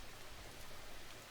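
Soft, steady rain hisses throughout the farming video game Farmer's Dynasty, a faint, even patter with no other sounds.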